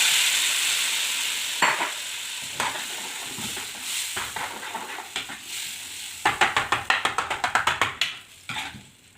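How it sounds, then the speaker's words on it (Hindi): Chana daal tadka sizzling in a pan while a spoon stirs it, with steady frying hiss broken by scraping strokes and a fast run of rhythmic stirring near the end, close and without talk. "इस तरह से तड़का लगाएंगे तो दाल,"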